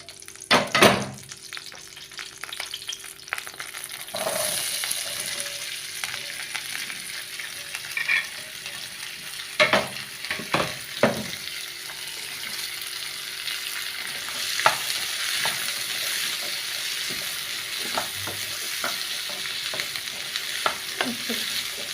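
Oil sizzles steadily as Thalassery-style masala fries in chicken-fried oil, with a spoon scraping and stirring the pan in repeated sharp clatters over a continuous hiss.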